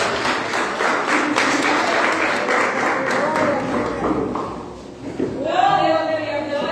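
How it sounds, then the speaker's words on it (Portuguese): A church congregation applauds the Lord during a Wednesday service, a hazy wash of clapping that fades after a few seconds before a voice speaks over the room. "igreja, dá uma salva de palmas para o Senhor"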